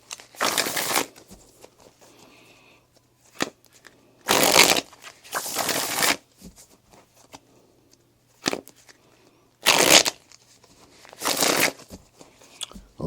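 Tarot cards being shuffled by hand in repeated bursts, each riffle or slide lasting about a second, separated by short quiet gaps, close and fairly loud with no talk over them.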